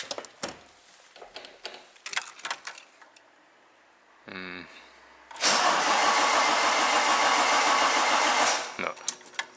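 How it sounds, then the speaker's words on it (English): A Toyota AE86 that had suddenly broken down is cranked with a rapid chugging starter, then catches and runs loudly for a few seconds before cutting out, with scattered clicks and talk before it. "let's turn on the car."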